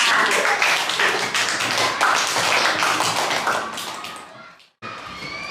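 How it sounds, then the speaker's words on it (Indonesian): A classroom of children applauds for a pupil named Safira, dense, loud, steady clapping from many hands nearby that tapers off, breaks into brief silence, then resumes. "Tepuk tangan untuk Safira"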